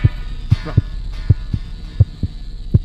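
A heartbeat effect from the horror game The Cat Lady thumps in low, heavy double beats, a quick rhythmic pulse over a steady hum, close and prominent with no talking.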